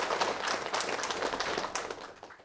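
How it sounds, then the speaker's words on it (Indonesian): Audience applause after a marawis percussion performance by an Islamic boarding school group at an Eid event, brisk dense clapping from a crowd that tapers off near the end. "kita berikan tepuk tangan"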